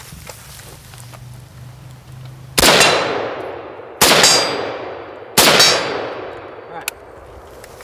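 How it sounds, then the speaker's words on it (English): Three loud, sharp M14 rifle shots ring out about a second and a half apart, each cracking hard and trailing off in a long echoing decay; a brief voice is heard before them. "I'm going to shoot a couple more"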